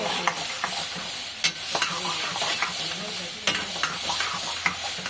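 Chicken biryani frying in a pan while it is stirred, with a steady close sizzle and irregular scraping clicks of the spoon against the pan throughout.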